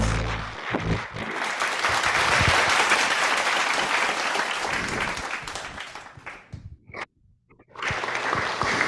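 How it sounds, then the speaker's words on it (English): A large audience applauds President Masaichi Hori at a welcome ceremony in the Philippines, a loud, steady wash of clapping that fades and drops out briefly near the end before surging back. "President Masaichi Hori, big round of applause."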